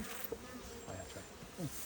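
Honey bees buzzing softly during a hive inspection, a faint steady drone with a few brief closer buzzes passing by, no talking.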